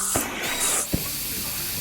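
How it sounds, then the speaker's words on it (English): Hairspray cans sprayed as a weapon in an audio drama, with short hissing bursts and a couple of low thumps, fairly close and with no voices over them. "take out our huge cans of hairspray and lighters"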